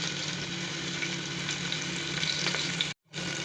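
Cut potatoes fry in a pan with a steady, close sizzle that runs continuously before a brief dropout near the end.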